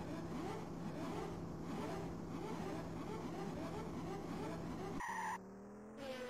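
Race cars at the start of a race in the Amiga game F17 Challenge, a dense continuous engine drone with a fluttering, squealing edge, ending in an abrupt cut to a falling synthetic tone.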